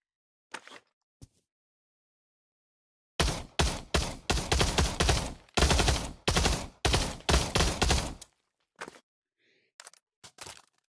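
Rapid bursts of gunfire on a video game gun range in Pavlov VR, a couple of sharp isolated shots first, then a dense run of loud automatic volleys for about five seconds, and a few scattered shots trailing off at the end.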